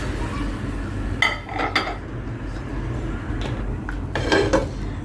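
Cooked paratha lifted from the pan onto a plate, with a few light clinks and scrapes of a utensil against the dishware over a steady low kitchen hum. No one speaks.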